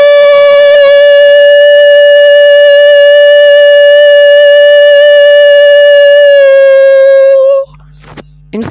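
A single steady siren-like tone held loud and unwavering for about seven seconds, rich in overtones, then cut off abruptly into brief clatter; a voice imitating a siren.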